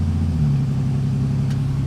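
A car's engine drones under load during a hard 20 to 100 mph pull, a steady low rumble with a rising tone partway through, close and continuous.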